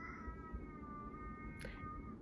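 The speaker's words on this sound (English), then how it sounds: "You hear the cat." A cat meows faintly indoors, a thin drawn-out call sitting low beneath steady room noise and a soft background hum.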